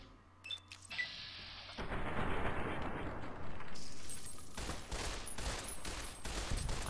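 Assault rifle fire in the Fallout: New Vegas video game, a loud sustained automatic burst of rapid rattling shots that runs for several seconds after a few brief clicks and weapon handling sounds.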